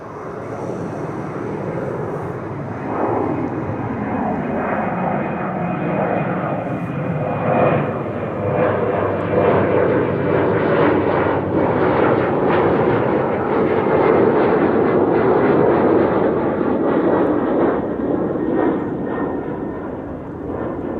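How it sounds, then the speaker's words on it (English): German Airways jet flying for KLM, departing Amsterdam Schiphol for Düsseldorf: a loud sustained engine roar building into a thunderous crackling rumble that holds for the whole stretch, with no voices. "Next up, KLM flight 1801 to Düsseldorf."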